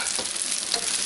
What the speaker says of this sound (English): You hear that sizzle up.